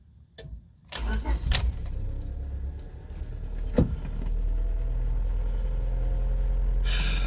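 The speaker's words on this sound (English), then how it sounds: "And we'll go ahead and start the car." A 1996–2000 Honda Civic with a newly replaced distributor is started up close: a few clicks and clunks, a short burst of cranking, then the engine catches and settles into a steady idle.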